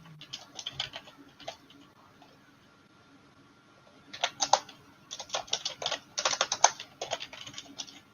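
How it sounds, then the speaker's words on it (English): Keys clatter on a computer keyboard while notes are typed, with sparse taps at first, a pause, then dense rapid bursts of typing close to the mic; faint cooing in the background. "I am typing in the notes"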